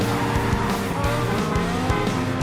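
Porsche race car in a Challenge Series race braking hard with tires squealing, loud, continuous engine roar with sliding tonal squeal swoops through the low end, no talking.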